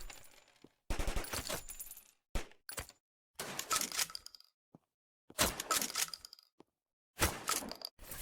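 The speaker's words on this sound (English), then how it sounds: "you can hear the regular bullet casings, but my personal favorite, the shotgun shell drop is really satisfying" Bullet casings and shotgun shells clatter onto the floor in a roguelite video game, sharp metallic tinkles and bouncing clicks arriving in separate bursts with silent gaps between them.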